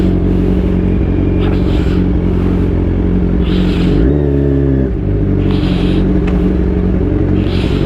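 A Kawasaki Z1000 motorcycle engine idling loud and close, its steady rumble briefly rising in a quick rev around the middle before dropping back to idle.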